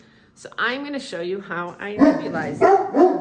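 Dogs bark and yip in a home while someone speaks over them, the barks mixing with her voice throughout.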